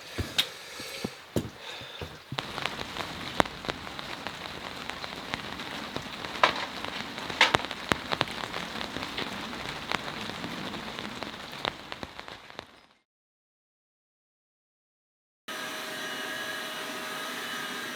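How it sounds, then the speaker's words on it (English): Steady, dense rain pours down with scattered sharp drips, then cuts to near silence before a softer wet hiss returns. "Ready for the next downpour."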